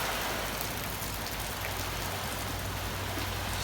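Steady rain falls on a surface outdoors, a constant dense hiss with a low rumble underneath, close and unbroken, with no voices.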